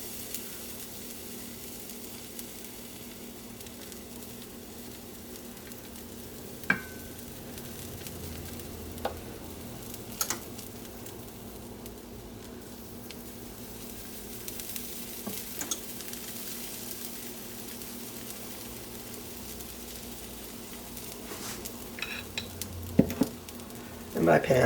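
Pancakes cooking over low-medium heat in a cast iron pan: a quiet, steady sizzle runs through, with scattered light clicks and taps of a small spoon and utensils, and a few louder knocks near the end.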